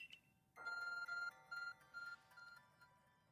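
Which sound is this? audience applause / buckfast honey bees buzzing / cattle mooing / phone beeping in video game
phone beeping in video game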